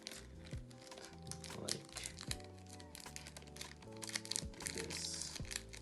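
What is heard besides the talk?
tape being applied, crinkling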